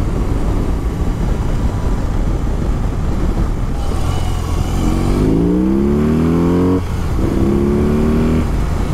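A BMW R18 cruiser motorcycle, a 350 kg bike, accelerates hard, its engine note climbing in pitch through a gear, dropping and then rising again over steady wind and road roar, heard from close by.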